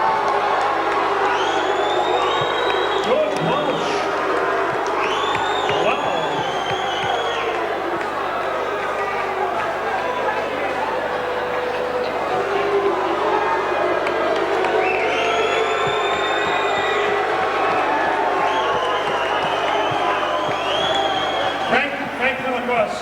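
A boxing arena crowd reacts to a split decision, a continuous rumble of shouts, whoops and scattered cheers. The sound is loud and sustained, and a voice talks over it throughout.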